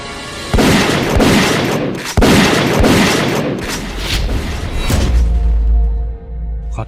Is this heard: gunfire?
yes